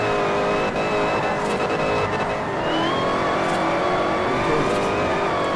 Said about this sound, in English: Engine noises